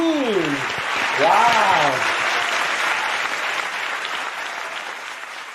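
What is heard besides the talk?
audience applause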